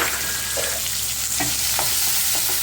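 Two medium onions frying in oil with turmeric and salt for a sweet potato curry, a loud close steady sizzle with a few soft stirring knocks, no voices.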